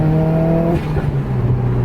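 A Subaru WRX pulls hard at full throttle, its engine note heard from inside as a loud, close rising drone that drops briefly at a gear change and climbs again.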